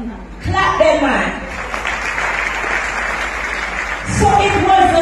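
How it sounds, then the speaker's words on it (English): Church congregation clapping at a Bible church service in Trinity Ville, Jamaica, a steady broadband wash of applause lasting several seconds with voices and cheers mixed in, swelling again near the end. "Clap them, man."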